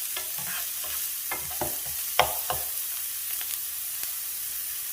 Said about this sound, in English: we're going to go directly in with our green peppers and our onions. And we're going to saute those for probably 2 minutes.